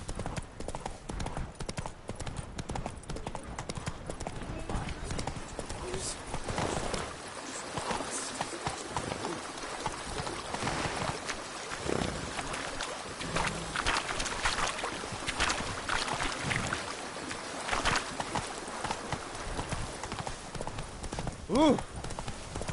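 The horse Roach gallops in The Witcher 3, with rapid rhythmic hoofbeats thudding close and continuous throughout. A voice speaks briefly over the hooves.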